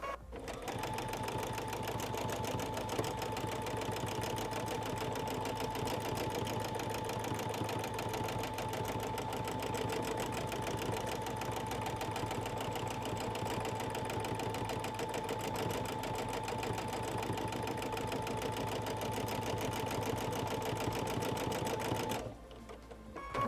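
A sewing machine free-motion quilting a spiral on a heart, running in one steady, loud, unbroken whir of rapid needle strokes for over twenty seconds before stopping abruptly near the end.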